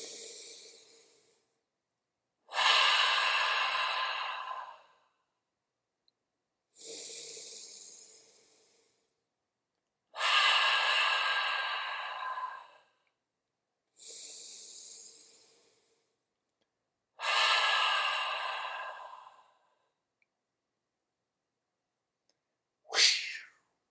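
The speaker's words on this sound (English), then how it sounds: "Let's do 3 breaths." Group breathing exercise of deep breaths in through the nose, heard as several long, slow airy inhalations and exhalations in a steady rhythm, each separated by a short silence, with a brief sharp breath at the end.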